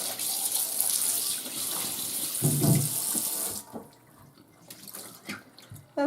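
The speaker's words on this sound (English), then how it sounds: "Hot water rinse." Hot water runs steadily from a tap into a sink, rinsing baking sheets, a loud hissing stream that cuts off partway, leaving faint drips and small clatters.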